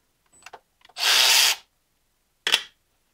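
Power tool backing out a reverse-thread T30 Torx bolt on a BMW E46 engine: a short whir, then a second brief burst, close and loud, with quiet gaps between.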